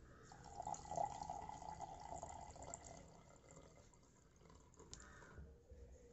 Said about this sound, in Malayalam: ഇനി ഇതിനകത്ത് വെള്ളം ഒഴിച്ചു കൊടുക്കാം.